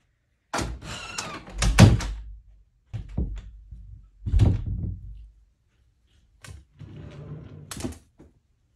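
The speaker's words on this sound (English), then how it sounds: "Close the door." Several closing thuds from a household door, loud and close, with clunks from the latch between short silent gaps.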